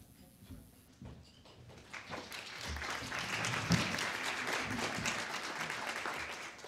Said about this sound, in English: Thank you very much for that applause from everybody